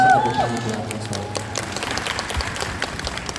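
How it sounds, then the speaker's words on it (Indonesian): A fan meeting audience in Jakarta bursts into crowd applause for Han So-hee, steady clapping filling the hall after a brief musical tone, with a voice speaking over it. "kasih tepuk tangan buat Mas Roy"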